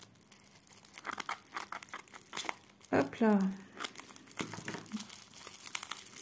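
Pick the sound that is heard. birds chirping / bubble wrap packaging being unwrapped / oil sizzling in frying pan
bubble wrap packaging being unwrapped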